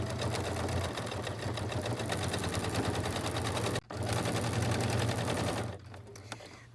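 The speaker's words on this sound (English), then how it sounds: "I'll sew forward and bar tack going backwards, and then I'll go to the other corner and do that again." A sewing machine stitches quilt binding, running forward and then bar tacking backward at a corner, a steady rapid mechanical whir that cuts out briefly partway through, resumes, then stops near the end.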